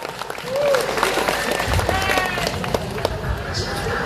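A crowd at a national coordination meeting of the Indonesian journalists' association PWI claps in a steady wash of applause, with a voice and scattered noise mixed in beneath it.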